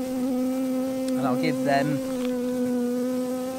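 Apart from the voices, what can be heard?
honey bees buzzing at opened winter hive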